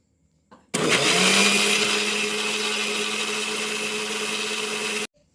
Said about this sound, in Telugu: ఇప్పుడు ఈ మిశ్రమాన్ని మిక్సీ పడదాం.